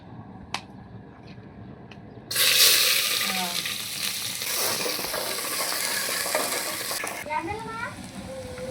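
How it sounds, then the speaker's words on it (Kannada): Onions frying in hot oil in a pressure cooker, a loud sizzle bursting in as they hit the oil and hissing steadily with a few stirring scrapes, close up, while a voice speaks briefly. "ಈರುಳ್ಳಿ ಫ್ರೈ ಆಗ್ತಾ ಇದೆ"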